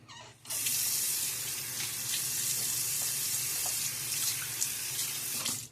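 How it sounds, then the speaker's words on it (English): Water gushes steadily from a tap into a sink, a constant close hiss that starts abruptly and runs without pause. "Water."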